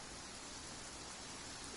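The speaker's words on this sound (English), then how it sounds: "It's also raining there, too." Steady rain falls in Genshin Impact, an even, unbroken hiss of rainfall that fills the whole short moment with no other sounds standing out.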